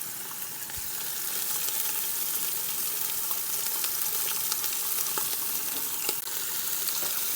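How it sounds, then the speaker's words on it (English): Five beef short ribs searing in an Instant Pot, giving a continuous even sizzle with scattered pops and spatters, steady and fairly close throughout. "I'm just going to leave them alone on the one side to get them to start searing."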